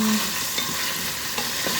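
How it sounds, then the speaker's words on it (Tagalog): Steady, dense sizzling of carrots and potatoes frying in oil for chicken curry, with a couple of soft stirring scrapes; no voices. "prito ko muna itong carrots at saka patatas"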